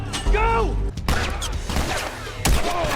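Gunshots in The Last of Us: several sharp, heavy bangs with low thumping punch, spaced irregularly across a few seconds, mixed with game effects and someone talking excitedly over them.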